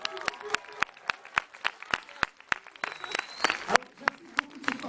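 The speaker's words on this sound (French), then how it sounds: "Merci de les applaudir très très fort," Cinema audience applauding at a film preview screening in Lomme: uneven clapping with loud individual claps close by, mixed with crowd murmur and scattered voices talking.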